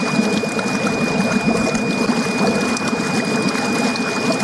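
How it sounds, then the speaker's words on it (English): Air bubbling steadily through a container of water to aerate compost tea, a dense continuous fizzing and gurgling wash heard close and without pause. "you can see in here all the bubbles, really aerating the water"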